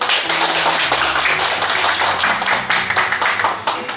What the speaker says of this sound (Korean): 박수로 맞아야겠습니다